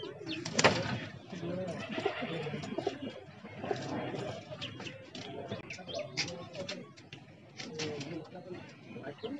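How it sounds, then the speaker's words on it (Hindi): Tonk pigeons in Bhopal coo softly and repeatedly in the background, with occasional chirps, while someone speaks over them nearby. "माशाल्लाह टोक के कबूतर हैं ये जी।"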